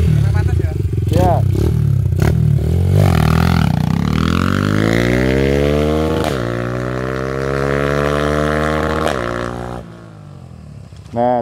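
A motorcycle fitted with an MBRtech A1CDI-R quickshifter module revs up to high RPM, its engine note climbing steadily. Sharp exhaust pops and crackles cut in at intervals before it drops back, loud and close.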